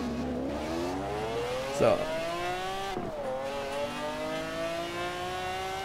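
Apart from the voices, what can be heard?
BMW V12 car engine revving in Forza Horizon 4 video game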